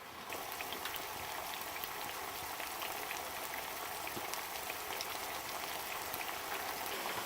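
Sliced potatoes for a tortilla de patata frying in oil under a lid: a steady, fairly faint hiss and crackle like light rain, continuous from start to finish, with no talk.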